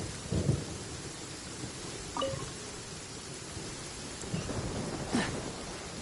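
Steady rain falls in a thunderstorm in the game Genshin Impact, with low rumbles of thunder rolling in at intervals over the constant hiss of rainfall.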